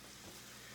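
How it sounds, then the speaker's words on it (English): Local hamburger meat fries in a pan with a steady, even sizzle, soft and continuous throughout with no voices. "cooking up some local hamburger and chopping up some onions"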